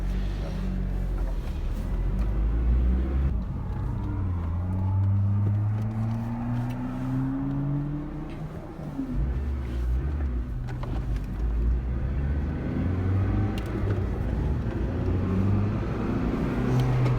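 Acura RSX Type-S running with its stock air filter reinstalled, a continuous engine rumble with rising and falling revs as it drives, fairly close and steady, with a brief dip midway.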